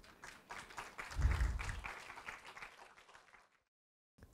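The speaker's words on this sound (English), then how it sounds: "Everyone, let's give another heartwarming round of applause." Audience applause at an evening awards ceremony for a housing design competition, a dense wash of clapping that swells to a peak then gradually fades, ending in near silence.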